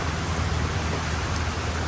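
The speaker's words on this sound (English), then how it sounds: "Oh, here comes the next squall coming across." Rain squall pelting a sailboat hauled out in a boatyard during strong wind, a dense, steady hiss of heavy rain and gusts with no break.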